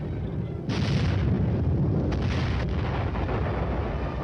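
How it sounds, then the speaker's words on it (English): A Cold War-era tank gun fires at an enemy tank position, a heavy boom swelling into a sustained rumbling roar that stays loud until the end, with no talk over it. "Clean hit, and the target is destroyed."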